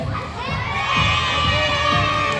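Children at an outdoor tug of war event shout and cheer together in a loud, sustained group chorus, close and lively with overlapping young voices throughout.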